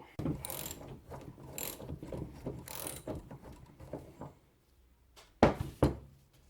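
A nut is unscrewed from the swivel hub of a Classic Mini with a ratchet, giving close bursts of rapid clicking in uneven runs, a short pause, then two sharp metallic clacks.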